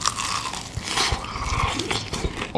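Crunchy fried chicken being bitten and chewed up close, with repeated loud crisp crunches in an irregular rhythm and no talking.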